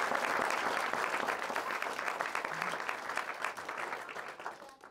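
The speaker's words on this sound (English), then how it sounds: "and I think that deserves a round of applause." Wedding guests applaud the newly married couple during the ceremony, a lively burst of clapping that gradually thins and tapers off toward the end.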